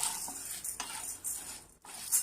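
Chana dal dry-roasting in a pan over medium heat, stirred steadily: a near, dry rattling scrape of lentils against metal in short repeated sweeps, with no voices.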